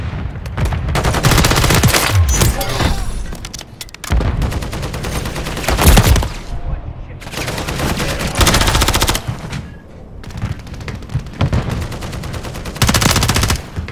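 Heavy automatic gunfire in Call of Duty, several long loud machine-gun bursts separated by brief pauses, close and dominating throughout.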